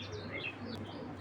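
Pigeons at a breeding farm, including a red jira male, coo and chirp softly nearby in a quiet loft, with a brief higher chirp among low murmuring calls.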